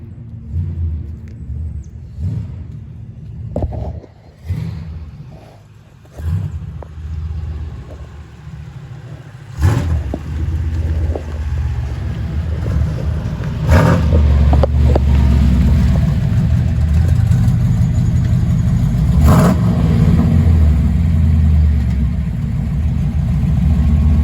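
A Chevrolet Camaro challenge car starting up and running, with a few initial bursts and clunks giving way to a deep, loud, steady engine rumble that builds and holds with occasional revs, no voices.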